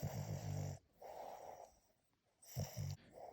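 A Boston Terrier snores loudly and close by in two rhythmic bursts, each a rasping inhale with a snorting edge, separated by a quiet pause.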